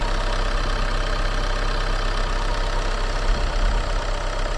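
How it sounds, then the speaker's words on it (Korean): The 2.0-litre diesel engine of a Chevrolet Malibu idles steadily with a low, even rumble and faint clattering, heard close up in the engine bay without any voices. "엔진 소리도 좋고 깨끗하네요."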